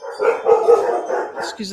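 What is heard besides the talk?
dogs barking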